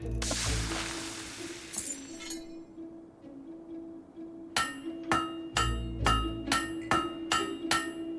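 Forge hammer blows on a blade in Fable 3, opening with a loud hiss that fades, then a regular run of ringing metal clangs, roughly eight strikes spaced evenly and close up.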